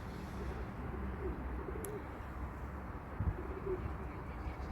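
Domestic tumbler pigeons coo softly in low, rolling murmurs, faint against a quiet outdoor background, with a couple of coos surfacing briefly.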